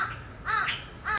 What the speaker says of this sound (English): there are so many more crows in Korea nowadays, especially on campus